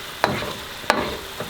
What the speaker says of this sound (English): It's boiling now, which is what it's supposed to do.